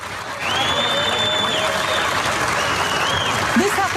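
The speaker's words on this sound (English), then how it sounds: "they were applauded by their colleagues as they left the courthouse" Colleagues applaud police officers as they leave a courthouse in Buffalo: a steady crowd clapping holds for about four seconds, with voices and a thin high tone mixed in.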